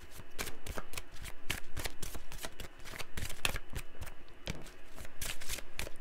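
Oracle cards are shuffled by hand in quick, repeated riffles and slaps, a busy crisp papery patter of bursts that continues without a break, with no speech.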